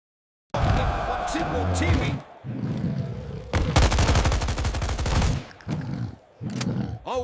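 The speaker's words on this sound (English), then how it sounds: "met with semi-automatic fire" Rapid bursts of semi-automatic gunfire aimed at convicts in an arena, loud and near, sharp shot clusters separated by short gaps, with voices and crowd noise mixed beneath.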